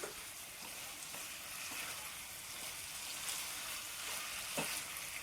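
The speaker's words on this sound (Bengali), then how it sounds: "পোস্ত বাটা তিনটেকে পেস্ট করে দিয়ে দিলাম" Poppy seed paste sautéing in a pan, a steady broad frying hiss with a few soft stirring scrapes throughout, moderately faint and without talk.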